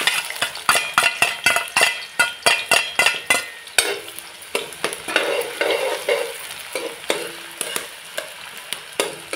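Bay leaves and onions hit hot oil in a pan for a spicy village-style country chicken curry, giving a sizzle broken by repeated sharp stirring scrapes and clinks, steady and close throughout.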